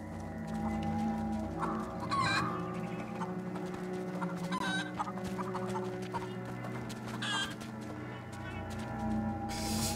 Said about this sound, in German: die zwei Hühner hier. Drei Hühner.